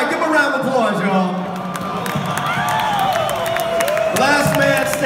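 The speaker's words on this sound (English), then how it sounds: "give a round of applause," Concert audience at the Belasco Theater in Los Angeles applauding and cheering after a rap battle set, a steady roar of clapping and whoops filling the hall with loud, sustained crowd noise and scattered shouts.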